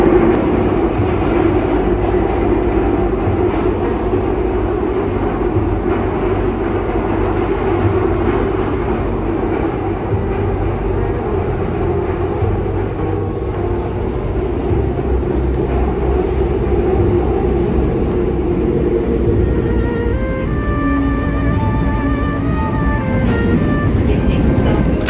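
Passenger train carrying a crowd of standing riders in Istanbul, with a steady loud rumble and rolling rail noise throughout and faint background chatter mixed in.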